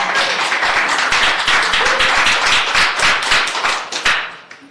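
Several people clap together in a committee meeting room, producing dense, fairly loud overlapping claps that hold steady for several seconds before tapering off near the end, with no talking.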